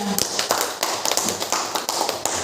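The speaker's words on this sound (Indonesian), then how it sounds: "Iya, kurang semangat aplausnya untuk Pak Acil" Audience applause at an Indonesian classroom or training session, a dense 2.5-second run of fairly loud overlapping claps and taps with no talk over it.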